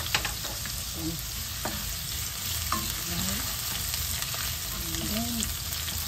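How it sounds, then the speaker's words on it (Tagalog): Ginger and bird's eye chili sizzling in hot oil in a pan, a steady close crackle with occasional scrapes of stirring, no talking. "isunod na po natin yung ating siling labuyo para lumabas yung aroma nila"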